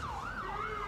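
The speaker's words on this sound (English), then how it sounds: "I hear 4 sirens" Several wailing ambulance sirens rise and fall continuously, heard from outside at moderate distance over low background noise.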